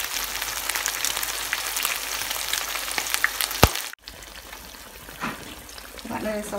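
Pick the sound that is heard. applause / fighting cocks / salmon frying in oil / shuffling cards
salmon frying in oil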